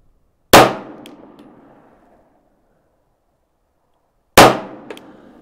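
Two sharp pistol shots from a P10 handgun crack out several seconds apart, each followed by a short ringing decay as the rounds hit a steel target 100 yards downrange.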